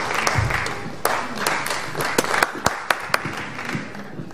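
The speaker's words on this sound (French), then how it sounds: "On applaudit pour nos grands chefs, nos heureux récipiendaires." Applause from an audience at a ceremony honouring chiefs and award recipients, scattered claps and sharp individual hand smacks ringing out over a murmuring hall, uneven and thinning rather than a full ovation.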